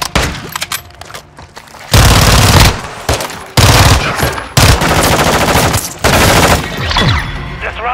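Automatic gunfire in Modern Warfare 2's Cyber Attack mode, played in a custom match against bots: loud bursts and sustained volleys of rapid shots with sharp impacts, continuing across the whole stretch without talk.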